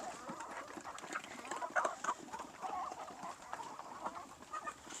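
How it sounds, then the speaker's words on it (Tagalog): Farm chickens and roosters cluck steadily while being fed at a fairly distant feeding spot, a busy overlapping chorus of soft clucks and calls with no talking. "Dito namin pinapakain yung mga manok namin na medyo malalayo."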